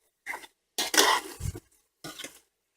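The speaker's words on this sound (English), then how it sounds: "I'm going to just stir everything around." Chili beans stirred with a spoon in a slow cooker, three short scraping clinks against the pot with brief silences between them.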